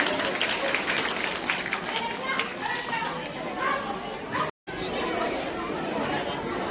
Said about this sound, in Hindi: एक बार उनके स्वागत में जोरदार ताली हो दीजिए।